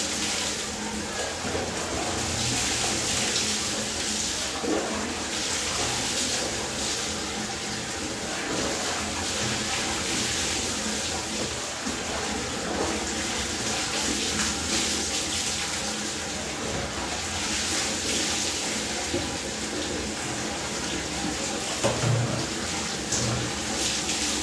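Water runs steadily while an old vegetable rack is scrubbed and rinsed clean after washing with Wheel powder, a continuous close splashing gush with faint scraping beneath.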